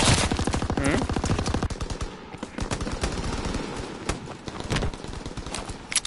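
Video game gunfire in Call of Duty: fast automatic bursts of shots, loud and close, with sharp separate cracks and a brief lull partway through, no talking.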